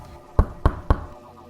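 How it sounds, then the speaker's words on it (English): Three sharp knocks on a front door, evenly spaced and fairly loud against a quiet background, with no voices. "there was a knock at the front door."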